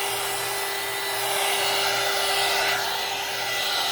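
A hair dryer blows a steady, loud, close whoosh over acrylic paint on a gelli print, holding its level for the whole stretch with no voices.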